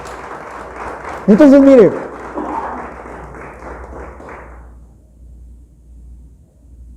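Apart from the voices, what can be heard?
congregation applauding in church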